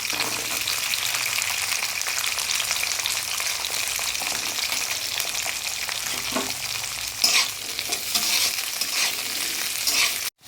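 Broad beans and carrots sizzle in oil in a wok while being stirred, a constant close frying hiss broken by occasional scraping stirs, with no voices.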